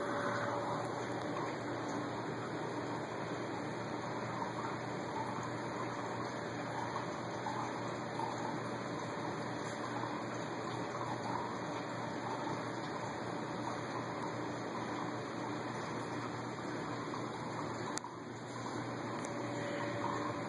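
Water from a saltwater reef aquarium overflow drains with a loud, steady rushing gush, unbroken and close for the whole stretch.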